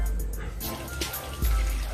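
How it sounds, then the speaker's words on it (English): Water is poured from a scoop into a natural liquid soap mixture in a bucket, giving a steady splashing pour with a brief gurgle, close and fairly soft, no voices. "watch me as I pour in the water"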